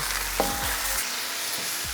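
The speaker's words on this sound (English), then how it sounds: "Let's give our steak a quick mix around." Steak sizzles loudly and steadily while being stir-fried in a carbon steel wok on a Kamado Joe grill, with a few soft scraping stirs under the hiss.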